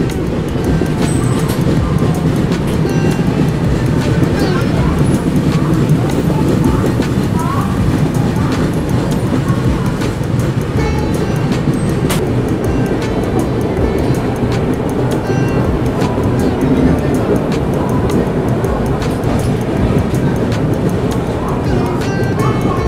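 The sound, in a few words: train departing Khurda Road station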